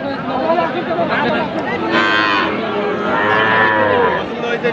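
A heifer calf lowing loudly and close by at a busy cattle market, with two drawn-out moos standing out over constant crowd chatter and voices of buyers and sellers.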